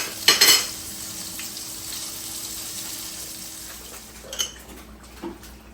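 Crappie fillets frying in hot grease, a steady low sizzle and bubble under a few clinks of a utensil against the pan, close and alone without talk.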